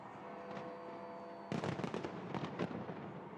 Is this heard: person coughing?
no